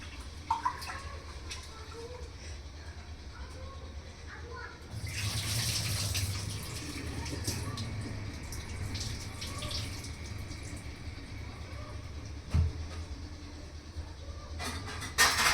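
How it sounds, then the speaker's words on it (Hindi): Rice is washed in a pot of water, giving a gushing pour and sloshing splashes with occasional sharp knocks and clinks. A voice is faintly heard at times. "मैं जब भी ये वाले चावल धोती हूँ ना"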